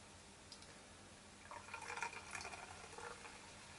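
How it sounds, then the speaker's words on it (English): Beer, deep red in colour, is poured vigorously into a glass, giving a faint, close splashing and fizzing that swells midway and continues softly to the end. "aggressive pouring there, just so you can get a head out of it"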